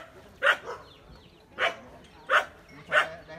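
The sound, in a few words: Phu Quoc ridgeback dog barking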